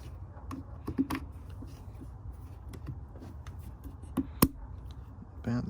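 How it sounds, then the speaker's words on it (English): Fuel and vacuum line connectors snap into place during a cold air intake install on a 2018 Ford Mustang GT, sharp isolated clicks over low engine-bay rumble. "Once you hear the clicking sound, it's good."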